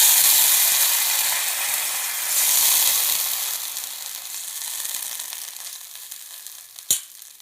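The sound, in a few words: fried golden-brown onions poured sizzling into Kerala fish curry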